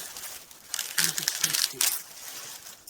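Large plastic grocery package being cut open by hand, a burst of close crinkling and tearing plastic lasting about a second, with soft rustles before and after.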